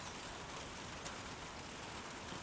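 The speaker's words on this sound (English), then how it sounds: "As I say that, it starts to rain more." Rain falls in a steady, faint, even hiss with no talking heard over it.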